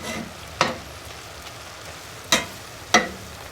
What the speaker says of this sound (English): it's so much nicer cooking it on a wood stove